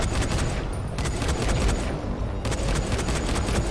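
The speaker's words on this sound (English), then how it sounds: "my gun not doing anything either, fam" Dense, continuous rapid gunfire from a gun in the video game Dying Light, loud and sustained with brief dips, during a boss fight.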